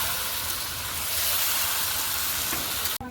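Potatoes frying in hot oil give a steady, loud sizzle throughout, ending with a brief clatter as they are lifted out.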